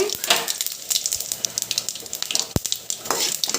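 Mustard seeds, cumin, chana dal, urad dal, dried red chillies and garlic sizzle in hot oil for a tempering, with close, loud crackling, spitting and popping bursts throughout.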